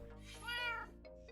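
A cat gives a single loud, drawn-out meow that rises and falls, heard close up over a faint steady background hum.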